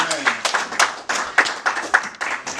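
An audience at a church gathering claps in a steady rhythmic beat, crisp hand claps repeating several times a second, with voices mixed in.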